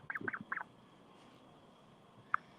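A pet duck gives a few soft, quiet quacks and squeaks in quick succession, then a pause before one short, sharp squeak, all faint and close in an otherwise quiet space.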